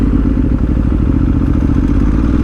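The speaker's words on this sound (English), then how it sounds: "You cannot hear this fucking loud thumping V-twin engine." Loud thumping V-twin motorcycle engine idling or cruising close by, a dense, rapid low pulsing beat with rattly clatter on top, steady throughout.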